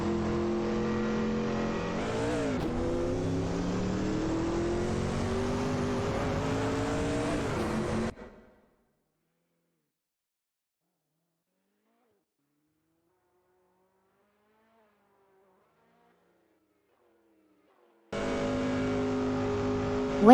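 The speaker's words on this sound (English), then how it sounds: "there's an intriguing battle for 26th place between Lord Zekrisby and Captain Potato" Race car engines in a racing video game rev loud and constant, with pitch sweeping up and down through gear changes. The engines cut out to silence for about ten seconds, then return at full volume.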